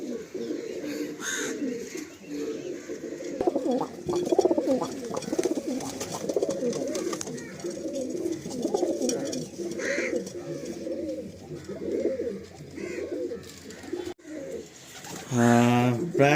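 Andhra pigeons and other breeds coo in a crowded loft, soft throaty calls repeating close by throughout, with a louder coo near the end and someone talking over them.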